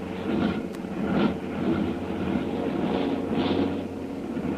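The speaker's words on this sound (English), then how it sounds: "Those motors are cold. One of the motors there is starting to miss." Cold motors on a heavily loaded airplane drone and stutter as one begins to miss, a radio drama sound effect with a steady hum broken by uneven surges, and no voices.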